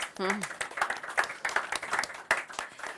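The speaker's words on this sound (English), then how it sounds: "At this stage, yes, round of applause, please" Applause from the room at a conference on African capital markets and sustainable development, brisk overlapping claps, with a voice speaking over it at the start.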